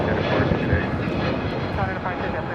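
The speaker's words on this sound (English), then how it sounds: "Coming in from Atlanta, Georgia, Delta Airlines Flight 753 on this A321neo" Delta Airlines Airbus A321neo jet arriving from Atlanta, a steady broadband engine roar filling the whole stretch, loud and continuous, with faint voices beneath it.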